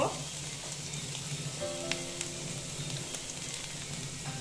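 Onion frying in oil in a pan for a soya chunk and potato curry, a steady close sizzle with a few faint clinks and scrapes, no talking.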